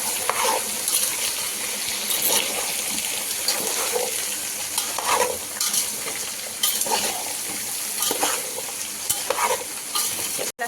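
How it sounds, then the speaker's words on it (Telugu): Chickpeas are stirred and fried in a pan with asafoetida, a spoon scraping in repeated strokes over a soft, steady sizzle. "మిక్స్ చేసుకొని ఒక 5 minutes బాగా ఫ్రై చేసుకుందాము."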